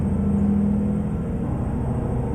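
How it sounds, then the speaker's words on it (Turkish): A low, rough Ford F-MAX truck engine in Euro Truck Simulator 2 rumbles steadily at idle with a faint irregular piston-knocking pulse underneath, continuous and close. "motor çalışırken sanki piston vururmuş gibi şöyle ses geliyor ya."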